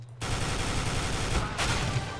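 Rapid automatic gunfire from a FAMAS rifle in a video game, a dense continuous burst of loud shots that runs almost the entire time after a brief quiet start.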